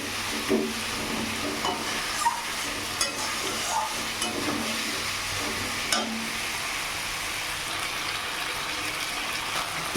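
Katla fish sizzling with spices in a pan while being stirred, a continuous frying hiss with occasional clinks of the spatula, close and moderate in level, no speech.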